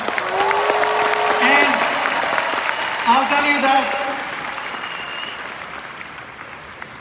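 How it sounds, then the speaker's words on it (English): Audience applause at a July 20, 2024 business meeting, steady clapping across the room that fades gradually while someone talks over it. "Let's give them a big, nice round of applause."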